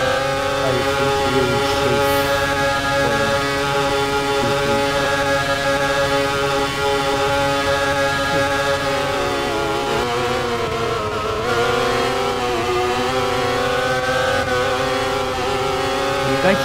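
Several F1 car engines in a Roblox racing game drone and whine steadily like lawnmowers or motorbikes, pitch wavering through shifts, loud and continuous with a brief voice over them.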